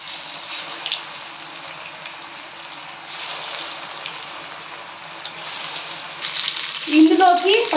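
Chicken pakoda pieces deep frying in hot oil, a steady hiss throughout with a louder burst of bubbling and clinks near the end.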